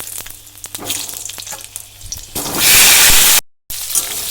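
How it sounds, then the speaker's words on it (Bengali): Potatoes hit hot oil seasoned with bay leaf and panch phoron, giving a sudden loud, hissing sizzle after some quieter clinks of stirring, then a brief cut and a softer crackle. "এবার খিচুড়ির আলুগুলো আমি ভেজে নেবো আলুগুলো একটু কষে নেবো"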